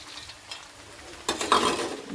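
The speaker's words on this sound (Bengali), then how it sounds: "আবার ভালো করে নাড়বো।" Flattened rice pulao with fried nuts stirred in a pan, quiet scraping at first, then louder clattering and scraping of the spoon against the metal pan close up, with no voices.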